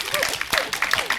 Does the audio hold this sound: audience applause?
yes